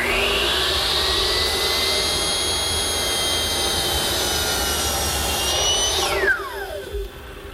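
A power saw cuts a bevel along a wooden desk top, a loud steady high whine that runs without a break for about six seconds and then winds down as the blade slows.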